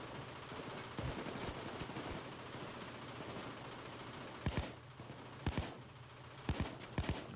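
Gunfire in the PayDay 2 heist game rattles as a dense, continuous noisy barrage, punctuated by several louder sharp shots near the end.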